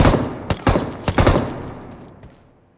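Rapid bursts of gunfire in the mobile battle royale game BGMI: several sharp, loud shots in quick succession, with a last fainter shot near the end as the ringing fades.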